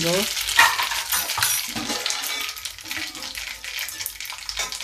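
Whole spices (mustard seeds, cumin, asafoetida and curry leaves) crackle and spit in hot oil, with a few metallic clinks of stirring against the pan.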